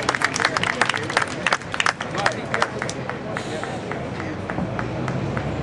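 Audience applause at a people's summit in Detroit as a poet is welcomed: loud, close clapping at first that thins into scattered claps and a room murmur of voices.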